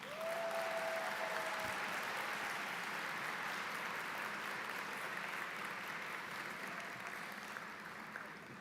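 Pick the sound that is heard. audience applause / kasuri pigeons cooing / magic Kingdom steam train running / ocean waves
audience applause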